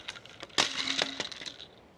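A RIUVAO LED construction string light hits a hard floor in a drop test, giving a sharp plastic-and-glass crack followed by a few small clinks and rattles as it settles, close and alone.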